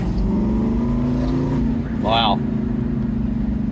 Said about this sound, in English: That big V8 growl.